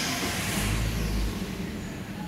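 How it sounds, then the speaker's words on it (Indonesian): A Wuling Formo S eight-seater, 2021, idles just after starting, its engine a steady, low rumbling drone heard up close with no one speaking. "Nah, ini dia suara mesinnya ya,"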